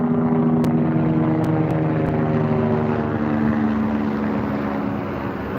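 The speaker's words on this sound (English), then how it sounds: "We got Chinooks fucking flying overhead." Chinook helicopters fly overhead outdoors with a loud, steady rotor and engine drone that fades slightly over several seconds, broken by a few sharp clicks.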